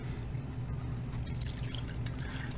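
Pineapple orange juice poured into a cocktail glass for a Sunset Moonrise Halloween cocktail, a steady close liquid stream with faint drips and splashes, heard alone without talk.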